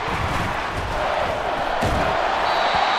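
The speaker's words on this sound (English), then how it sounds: "This crowd turning up the decibel level." Stadium crowd in Madden NFL 24 roaring steadily and loudly throughout, a dense continuous wall of cheering with a few thuds in the mix.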